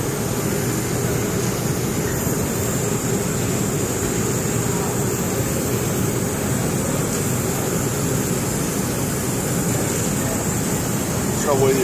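Steady, loud broadband rush of a portable self-contained downdraft fume collection booth running, its fan and airflow producing a constant even roar with no change throughout.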